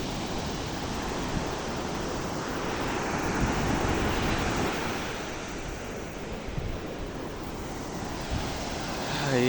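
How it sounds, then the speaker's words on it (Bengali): Sea waves break and wash onto a shore in the Maldives, a steady broadband roar that swells and ebbs with each surge and rises at the end as another wave comes in; no one speaks. "একটা ঢেউ আসছে"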